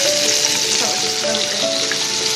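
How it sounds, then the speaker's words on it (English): Panko-breaded pork chops frying in a pan, giving a continuous, dense, close sizzle with a steady crackle and no pauses. "If you let it fry up real good on that one side and then give it a flip, it's going to fry up good on the other side"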